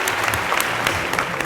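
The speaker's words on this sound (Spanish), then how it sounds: "Un aplauso." A studio audience at a talk show gives a brief, steady burst of applause. The dense clapping is fairly loud and continuous.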